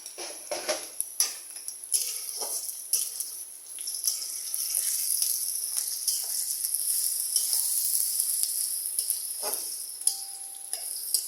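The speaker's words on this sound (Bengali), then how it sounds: "ভাজা হচ্ছে ভালো করে।" Onions and whole spices fry in a pan for a liver bhuna, making a continuous close sizzle that swells and eases. Occasional stirring knocks and scrapes sound over it, with no talking.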